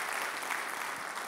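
Audience applauding construction trades workers at a civic event, a short, steady wash of crowd clapping with no break.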